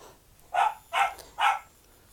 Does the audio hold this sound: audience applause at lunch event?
no